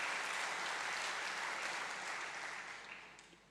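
A large conference crowd applauds during the GESF 2017 opening address, thick steady clapping that holds strong and then gradually thins and fades away near the end.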